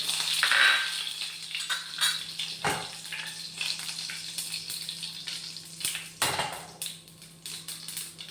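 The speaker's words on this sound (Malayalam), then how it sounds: "കടുക്, ഉലുവ, അവസാനം നമുക്ക് കായം പൊട്ടട്ടെ" Mustard seeds, fenugreek and asafoetida splutter in hot oil for a simple mango pickle, giving scattered crackles and sharp pops over a low, soft sizzle, close by and with no voices.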